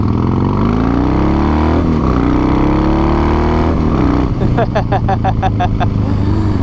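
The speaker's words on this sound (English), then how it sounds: "I'm currently riding, I believe this is a 17 Heritage Classic." A 2017 Harley-Davidson Heritage Classic Softail with the old Softail frame rumbles loudly and steadily throughout, heavy wind roar mixing with the engine, and the exhaust note rises and falls under strong rushing air.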